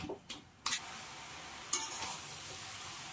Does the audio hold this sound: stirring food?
yes